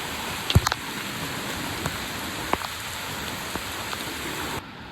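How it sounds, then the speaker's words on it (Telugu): Steady rain pours over a monsoon trek to Dudhsagar Waterfall, a dense even hiss with a few sharper drops and taps near the start before it cuts off abruptly. "వర్షం మాత్రం హైలైట్ అవుతుంది బాయ్."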